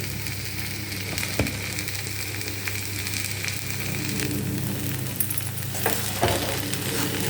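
Cooked cassava puzhukku heating in a pan with fried mustard seeds, a steady close sizzle with occasional soft crackles and stirring clicks.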